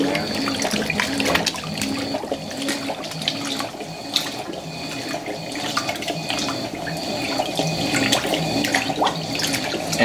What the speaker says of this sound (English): it's a big washer and it feels really high. See? And it's got some incredible wash action going on there.